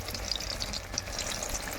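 Eggplant pieces frying in hot oil, a steady close crackle and spatter of popping bubbles with no one speaking.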